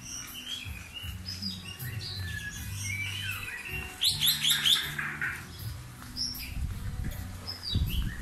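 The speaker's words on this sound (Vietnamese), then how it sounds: "có mấy con chim nữa này." Birds chirp and tweet in a rose garden cafe, several short bright calls scattered over a low background hum, with a busier burst of chirping around the middle.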